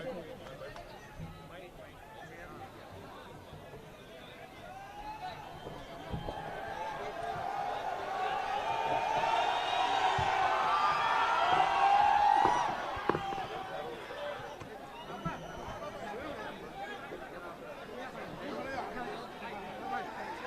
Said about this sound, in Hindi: तो हमारी बहन के लिए जोरदार तालियों से स्वागत किया जाए